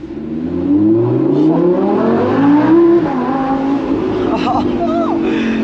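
A Lamborghini Huracan Spyder V10 engine revs hard, its pitch climbing then falling and settling into a rough idle, loud and close.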